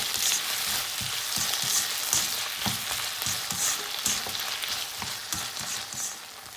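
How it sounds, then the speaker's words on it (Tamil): Tomatoes with ginger garlic paste sautéing in a pan for a capsicum potato gravy, a loud constant sizzle broken by rhythmic spatula scrapes and stirs, no talking. "தக்காளி நல்லா ஒரு பேஸ்ட் கன்சிஸ்டன்சி வர அளவுக்கு நல்லா வதக்கிக்கலாம்."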